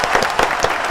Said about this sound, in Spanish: ¿te podemos hacer pasar a la gente para que aplauda?